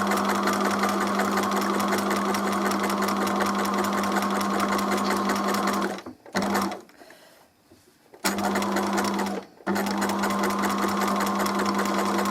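A sewing machine stitches in a fast, even mechanical chatter, loud and close, stopping twice briefly before carrying on.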